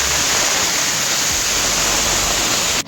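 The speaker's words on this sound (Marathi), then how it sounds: "इथं बघा पाणी कसं पडतंय बाबा डोंगरावरून एकदम खतरनाक" A waterfall pours down a mountainside, roaring in a dense, constant rush of falling water, loud and close, with no voices.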